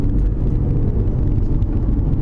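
An Aston Martin, a Vantage or DB11, runs on the Sepang track under braking and turn-in. It makes a close, steady, rumbling engine drone that stays loud throughout without any talk.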